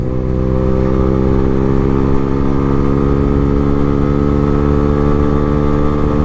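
A Lexmoto Hawk 125 motorcycle pulls uphill in fourth gear, its small single-cylinder engine droning steadily and loudly with rising harmonics, gathering speed under constant wind rush, with no voices.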